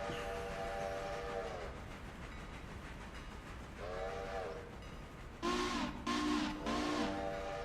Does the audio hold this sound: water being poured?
no